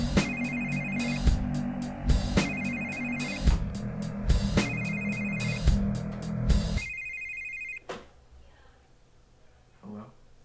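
A telephone rings loudly in repeated bursts with a steady rhythm, used as a track transition. The ringing cuts off abruptly, followed by quieter ambience with a few soft knocks.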